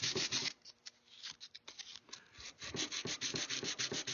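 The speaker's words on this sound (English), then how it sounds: "we just take a piece of paper, emery paper, or good sandpaper, and clean that up so there's no little burrs sticking up" Emery paper sands burrs off a milled metal part for a swivel breech rifle kit, producing quick rasping back-and-forth strokes in short bursts with brief pauses, close and fairly soft.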